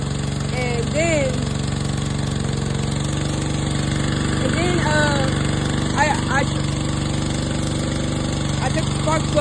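A repaired pressure washer's small engine runs with a loud, steady, rough drone throughout, and a voice talks over it.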